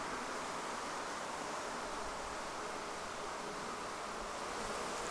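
Honeybees buzz steadily during a pre-winter inspection of a neglected hive with a hive beetle problem, a dense, close, unbroken hum with no talking.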